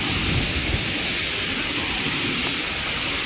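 Water pours hard at Godas waterfall in Nuapada, Odisha, during the rains, a loud, unbroken roar filling the whole scene without any talking.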